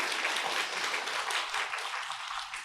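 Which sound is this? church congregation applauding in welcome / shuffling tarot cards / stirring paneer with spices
church congregation applauding in welcome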